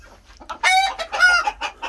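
A Cochin bantam rooster crows nearby, a loud rising and falling call lasting about a second, followed by brief quieter notes.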